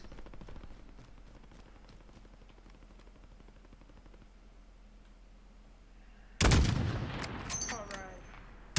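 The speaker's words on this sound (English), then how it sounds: "Even though it's a shotgun, I think it'd be a good idea to use it." A single loud shotgun blast in Call of Duty zombies mode, arriving suddenly after a long stretch of quiet low rumble and trailing off with ringing debris and echoes.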